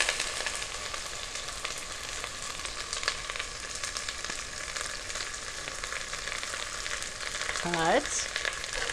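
Sliced tomatoes sizzle steadily in melted butter, a close, even crackling frying sound throughout, with a brief spoken word near the end.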